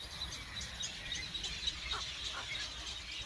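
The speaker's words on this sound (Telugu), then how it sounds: "పక్షులు కిలకిల శబ్దాలు ఎంత మధురంగా వినబడుతున్నాయో." Birds chirp outdoors in nature, faint scattered high tweets over a soft continuous hiss of insects and ambient noise, distant and quiet, with no voices.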